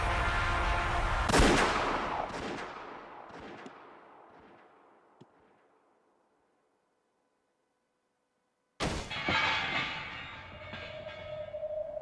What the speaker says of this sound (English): She pulled the trigger without a trace of mercy.